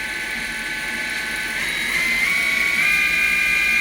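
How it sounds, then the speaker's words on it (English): A 2016 Samsung SL 2500BY CNC lathe spins its live tool at 2500 RPM, producing a steady high mechanical whine with a pitch that steps up slightly partway through, loud and continuous with no talking. "Live tool spinning at 2500 RPM right now."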